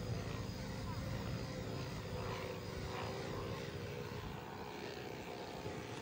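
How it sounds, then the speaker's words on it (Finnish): Avro Anson twin-engine model airplane in Finnish Air Force colours, its two propellers droning in a steady, continuous buzz throughout, with no talk over it. "siitä tulee jännä erilainen pörinä, kun koneessa on tosiaan 2 moottoria ja potturia, jotka siellä pyörivät"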